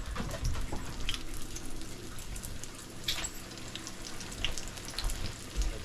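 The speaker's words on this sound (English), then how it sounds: "we're going to throw our bread in there and fry it hot and fast" Naan bread frying hot and fast in avocado oil in a pan, a steady close crackling sizzle with scattered sharper pops throughout, no talk.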